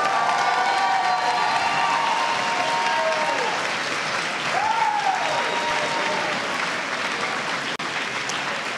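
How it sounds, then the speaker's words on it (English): At a spring commencement ceremony, a big crowd applauds and cheers for certificate, diploma and associate degree graduates; steady, loud clapping fills the hall with scattered whoops and a few faint tonal whistles riding over it. "Ladies and gentlemen, a round of applause for our certificate, diploma, and associate degree graduates."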